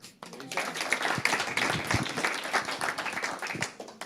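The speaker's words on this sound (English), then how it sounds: "What about a clap for our host?" An audience at an e-commerce sellers' live event claps for the host, a fairly quiet but sustained round of scattered hand claps lasting several seconds, with some crowd murmur mixed in.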